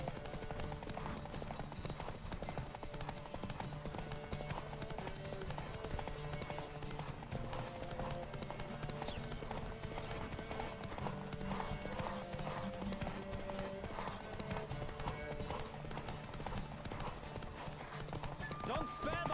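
Horses gallop in a race in The Witcher 3, their steady clip-clop of hooves loud and continuous throughout, with background game music and occasional voices over the pounding.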